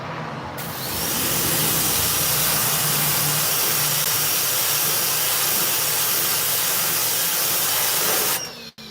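A loud, continuous hiss of water spray fills the scene as a boat is hosed down, starting abruptly and cutting off near the end.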